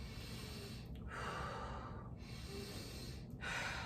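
Shallow chest breathing demonstrated close up, with about three audible breaths, each a rushing inhale or exhale through the nose and mouth, and no talking.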